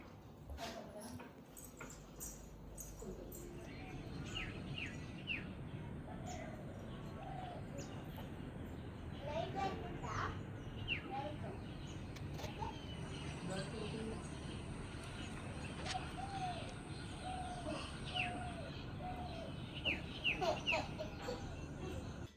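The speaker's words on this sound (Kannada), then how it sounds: "ಸೊ ಆಚೆ ಬಾಲ್ಕನಿಲಿ ಲೈವ್ ಆಗಿ ನಿಮಗೆ ಸೌಂಡ್ ಕೇಳಿಸಿದೆ. ಎಷ್ಟು ಬರ್ಡ್ ಸೌಂಡ್ ಎಷ್ಟು ಚೆನ್ನಾಗಿ ಬರ್ತಾ ಇರುತ್ತಲ್ಲ" Birds outside on a balcony give faint, repeated chirps and cooing calls in the distance, scattered through a long stretch, while a person talks over them.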